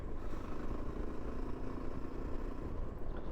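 A Yezdi Adventure motorcycle cruising in sixth gear at about 45-50 on an ordinary road, a steady close engine drone with a low rumble, no voices.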